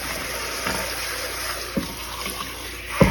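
Bluegill fish, soaked overnight in salt water, washed under a running tap in a sink: steady close water flow with a few sharp splashes and handling knocks.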